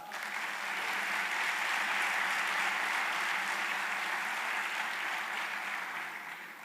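Conference audience applauding at a digital services summit in Jamaica, a steady, even wash of many hands clapping that rises quickly, holds for several seconds and fades slightly at the end.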